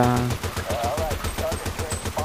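Rapid, evenly spaced machine gun bursts from Battlefield Bad Company 2 on the Valparaiso Rush map, sustained and fairly close, with someone talking over the firing.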